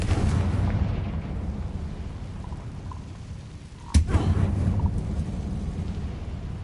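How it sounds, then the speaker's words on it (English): A Confringo fire spell detonates in Hogwarts Legacy as one sharp blast midway through, rising above a constant rushing, crackling backdrop that stays loud before and after the hit. "Confringo!"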